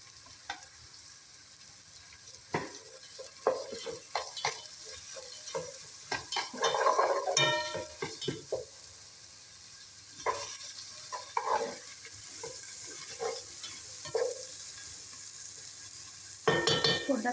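Onions frying in a pan for nasi goreng, with intermittent scraping stir strokes and bursts of sizzle over a steady hiss, close and moderately loud, with no talking.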